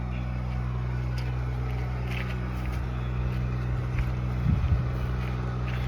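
A rice combine harvester's engine drones steadily in a paddy field, a low constant rumble with wind buffeting the microphone and a brief louder surge near the end.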